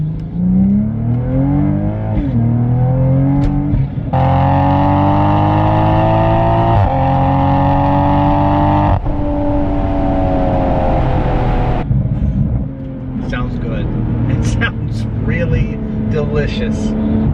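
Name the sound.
car with cat-back exhaust revving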